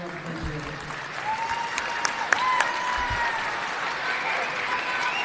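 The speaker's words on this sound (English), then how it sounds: "if you would like to stand and give her a round of applause" A concert audience stands and applauds for a colonel at her final concert after 29 years, a sustained wash of clapping filling the hall with cheers and voices mixed in.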